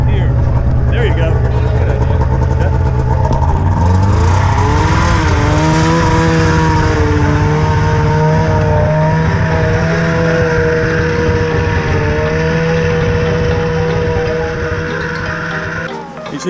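A snowmobile engine hums steadily and close on family trail rides on VAST snowmobile trails, its pitch climbing and then holding at a high, even drone for most of the run before easing off near the end.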